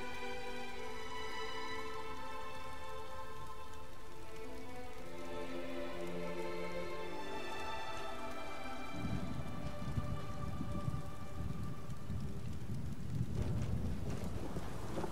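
Steady rain falls in the video game Elder Scrolls Online around a cottage, a constant hiss that thickens into heavier, denser downpour with low rumbling partway through, with no voices.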